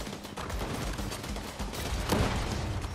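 Gunfire in Fortnite during a firefight, rapid overlapping shots and bursts running steadily throughout with a louder cluster just past the two-second mark, close and dense.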